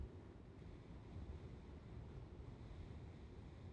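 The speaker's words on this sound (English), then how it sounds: "It was a little windy, Boston." Steady wind buffets the microphone over a continuous wash of lapping waves on Lake Winnipeg, a dense low rumble with no voices.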